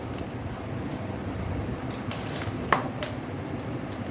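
Cooked vermicelli for lemon pulihora is stirred in a pan, giving soft continuous scraping and mixing with one sharp utensil clink partway through.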